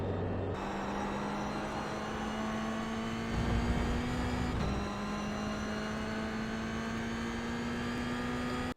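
Toyota GR86 engine in the iRacing simulator at Rudskogen, droning steadily at high revs and climbing in pitch, with a brief gear change dip around the midpoint; loud and continuous, no talk.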